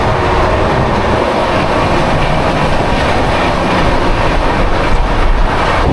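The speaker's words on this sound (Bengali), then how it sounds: "এখন এই মুহূর্তে আমাদের সঙ্গে দেখা হয়ে যাবে 180-45 ইস্ট কোস্ট এক্সপ্রেসের সাথে" The East Coast Express rushes by with a loud, continuous rumble of wheels on rails and a dense clatter that fills the whole stretch without a break.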